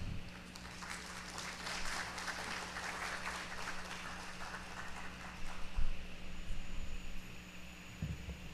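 A crowd applauds to welcome a moderator, a soft, fairly distant patter of clapping that swells briefly and then thins out under a low steady hum.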